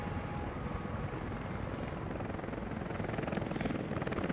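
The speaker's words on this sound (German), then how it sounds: "Und die Helis liefern fleißig das Baumaterial." Helicopters deliver building material in the city-building game Workers & Resources, a steady rotor thrum with rapid blade chop holding constant, fairly close and alone without talk.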